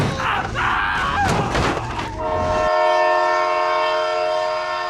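A passing train in the BeamNG driving game blares a loud, sustained multi-tone horn over rumbling, clattering wheels. The noisy rolling sound gives way to steady harmonic horn chords.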